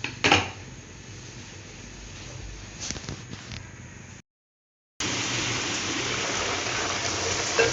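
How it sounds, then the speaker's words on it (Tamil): Water is poured into a cooking pot of vegetables for sambar in a steady gushing stream, broken by a short silent gap before the pouring resumes. "காய் முங்குற அளவுக்கு தண்ணி ஊற்றிக்கோங்க"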